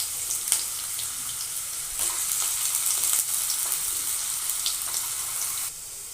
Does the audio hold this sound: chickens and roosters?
no